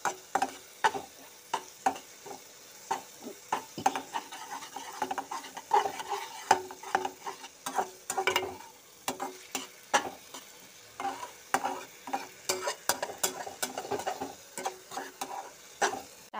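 Soybean curry masala frying in oil, stirred with repeated scraping strokes against the pan and a soft steady sizzle underneath, close and moderately loud with no talking.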